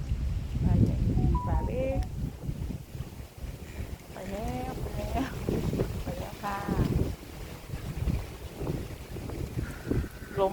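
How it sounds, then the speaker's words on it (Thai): Strong wind gusts over a large lake in Bangkok, a steady low rumble buffeting the microphone throughout while someone talks over it. "ลมแรงมากเลยค่ะ"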